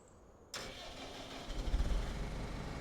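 A Claas Arion tractor in Farming Simulator 25 cranks and catches with a sudden start, then settles into a low, rumbling idle that grows steadily louder.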